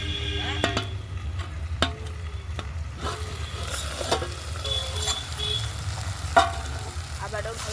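Chicken biryani masala stirred in a pot over steady frying sizzle, with a few sharp scraping and clinking strokes of the spoon, fairly close.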